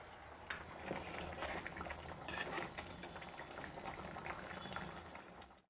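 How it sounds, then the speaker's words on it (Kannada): Tomato gojju sauce simmers in a pot, giving off a quiet, continuous bubbling and popping that stays fairly even throughout. "ಚೆನ್ನಾಗಿ ಕುದೀತಾ ಇದೆ"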